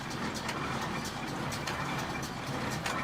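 A Kubota L5018 tractor engine idles with a steady, continuous rumble, fairly close and even throughout, with no talking over it.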